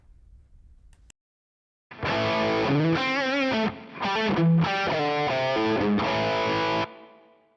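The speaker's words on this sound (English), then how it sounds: "so there's like a little bit of spring reverb" Electric guitar played through a Tonex unit with a little spring reverb, chorus and delay: several sustained, wavering chords and notes that ring out with a shimmering tail, after a short silent pause.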